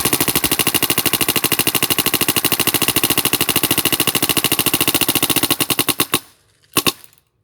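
A Kingman Spyder Aggressor XT paintball marker fires a long, very fast stream of loud shots, around 17 per second, outdoors toward trees, ending with a few last pops and a brief double shot after a pause.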